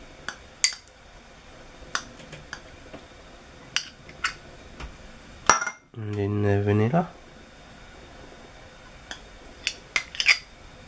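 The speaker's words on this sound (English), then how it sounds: "I'm just going to grab a spoon." Metal cutlery clinks and taps as a spoon is picked up in a home kitchen while baking oatmeal raisin cookies; sharp, scattered close clicks over a quiet room, with a short voiced sound in the middle.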